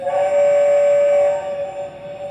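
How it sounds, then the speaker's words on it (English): A single steady, high-pitched whistle tone from a battery-powered Lionel Hogwarts Express toy train set sounds for about a second and a half, then fades into a faint electronic hum. "So first up, here's the whistle."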